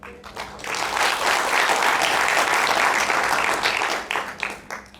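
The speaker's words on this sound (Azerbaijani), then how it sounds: "indi isə sizin alqışlarınızla, gürültülü alqışlarınızla növbəti skeçə keçmək istəyirəm" A comedy show audience breaks into loud, sustained applause, many hands clapping together before the clapping thins out into a few scattered claps.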